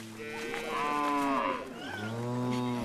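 Native West African cattle from the tsetse belt moo twice in succession, two long, loud, close harmonic lows with a short pause between them, heard alone.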